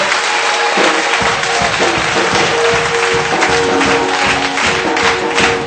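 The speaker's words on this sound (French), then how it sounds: "je souhaiterais que tout le monde acclame fortement le Seigneur" A church congregation applauds loudly for the Lord, a dense, sustained wash of many hands clapping with faint cheering mixed in throughout.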